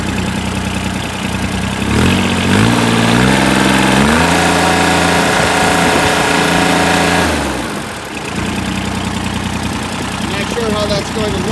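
A John Deere 655 Turbo tractor engine cranks and catches at close range, settling into a loud, steady, smooth idle with a brief dip in level near the end; no speech is heard over it.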